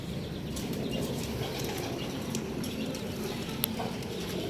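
A pigeon flaps its wings and climbs upward outdoors, a steady rustling wingbeat over a constant broadband background, with brief sharper clicks scattered through.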